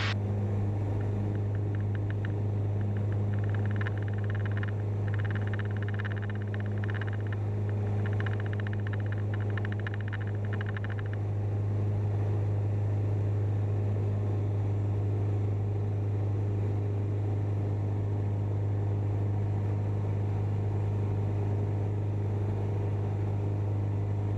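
A light training aircraft's engine drones at full takeoff power, a steady loud low hum with constant cabin rumble throughout and no talking.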